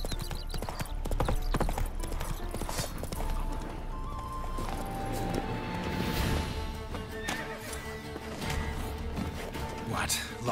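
Steady clip-clop of horse hooves with an occasional whinny in The Witcher 3: Wild Hunt, mixed into a dense game soundscape with music and voices throughout.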